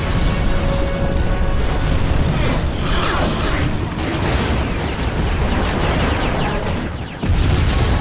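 Dense, continuous barrage of booming blaster fire and explosions as General Grievous's ship opens fire in a Star Wars space battle, loud and layered with mechanical rumble and a sharp burst near the end.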